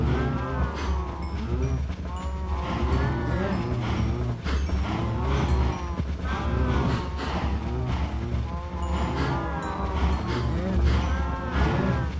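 Many cows in a video game moo over and over, overlapping in a dense, loud chorus of lowing with no pauses, like a crowded pen of cattle.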